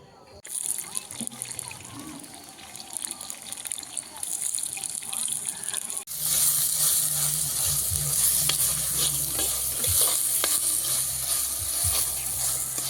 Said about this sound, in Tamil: வெங்காயம் பச்சை மிளகாய் போட்டு வதக்குறேன்.